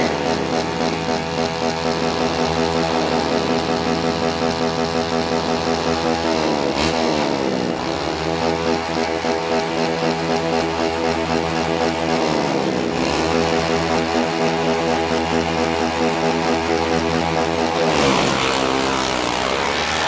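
Drag racing motorcycles launch with a wheelie, loud high-revving engines buzzing and wailing throughout, with rising and falling revs and gear shifts, close and continuous for the whole stretch.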